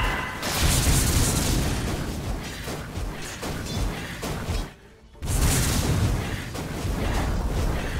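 A Dota 2 tower collapses in a heavy, rumbling explosion, sustained loud crashing debris that cuts out briefly for half a second before another long roaring blast continues.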